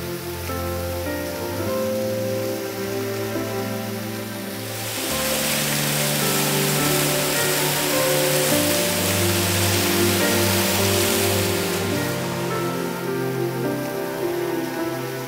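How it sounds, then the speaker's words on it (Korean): A waterfall plunging straight down on a mountain trail gives a steady, broad roar of falling water, swelling louder midway and staying constant under background music. "두려움도 없이 수직낙하하는 폭포"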